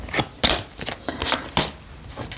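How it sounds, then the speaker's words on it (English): Deck of playing cards being shuffled, a series of sharp, close riffling bursts and snaps in uneven rhythm with short gaps between them. "One more shuffle."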